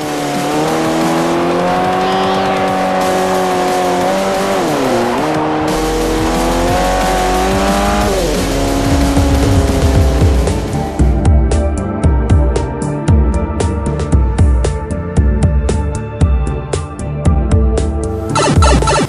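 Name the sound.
race cars and tire squeal from video game Forza Motorsport 4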